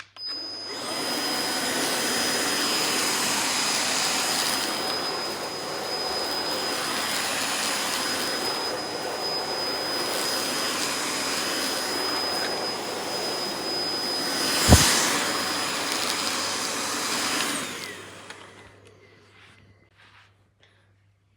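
A Hoover ONEPWR Emerge cordless vacuum cleaner runs on a rug with a loud, steady close whine and a thin high tone, shifting slightly as it moves, then a click and a wind-down to silence.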